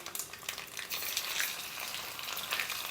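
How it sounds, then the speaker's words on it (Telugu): Mustard seeds, urad dal, cumin and garlic sizzle in hot oil as a tempering for a Telugu mango and amaranth dal, a quiet, steady crackling fry with no voices. "ఆయిల్ వేడెక్కిందండి. ఆవాలు, మినప్పప్పు, జీలకర్ర, కొంచెం వెల్లుల్లి,"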